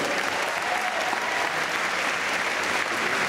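A live audience gives Christophe-Nicolas Biot a dense, continuous round of applause at his farewell show in Paris, loud and even throughout with no talking.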